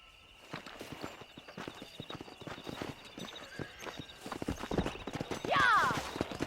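Horse hooves clip-clop at a steady gallop in the Red Dead Redemption video game, a quick rhythmic pounding that builds toward the end, where a horse whinnies sharply.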